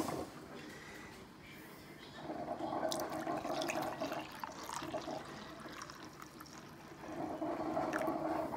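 Water pours steadily to fill a coffee maker for a second pot of coffee in a kitchen, a continuous trickling and splashing that swells louder midway, with faint voices in the background.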